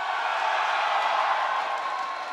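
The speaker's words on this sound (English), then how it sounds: "Can you cheer louder?" A live event crowd cheers and shouts together, a steady, loud wash of massed voices sustained without a break.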